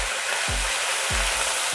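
Slit green chilies with fennel, cardamom, cinnamon and cloves sizzle loudly in hot coconut oil for a Kerala-style chickpea curry, a constant crackling hiss broken by two soft low thumps of stirring.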